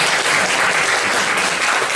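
Loud, sustained applause from an audience thanking a general manager at the close of a talk, dense steady clapping with no voices over it.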